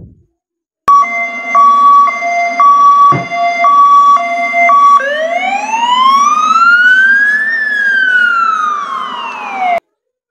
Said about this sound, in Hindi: एम्बुलेंस मीन्स रोगी वाहन।